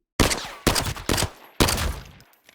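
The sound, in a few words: pistol gunshots in the video game Arena Breakout Infinite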